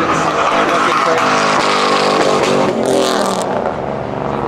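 Dodge Hellcat 300 spinning around, a loud revving engine roar with rising and falling pitch and some skidding, close, with people talking over it.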